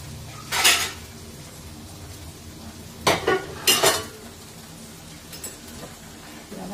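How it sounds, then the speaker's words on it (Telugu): Chopped onion and green chilies go into a hot pan, a short burst of sizzle followed by a few quick scraping stirs and utensil clatter against the metal, then quiet frying. "ఉల్లిపాయ పచ్చిమిరపకాయ వేసేస్తాను."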